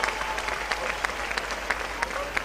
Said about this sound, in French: Est-ce qu'on peut l'applaudir très fort pour moi?